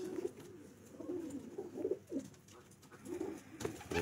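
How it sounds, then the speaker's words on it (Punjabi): Pigeons with net-patterned eyes coo softly on a rooftop in Faisalabad, a quiet series of low, rolling coos in short repeated phrases against faint background noise. "ਇਹ ਜਿਹੜੇ ਸੀ ਨਾ ਜਾਲੀਦਾਰ ਅੱਖਾਂ ਵਾਲੇ ਕਬੂਤਰ"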